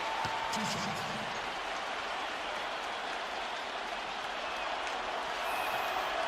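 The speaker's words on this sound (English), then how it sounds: "Let's quiet this crowd up." Virtual arena crowd in NBA 2K14 during a Timberwolves vs Memphis Grizzlies basketball game, a steady broad roar with applause-like wash holding at constant level throughout, no distinct voices standing out.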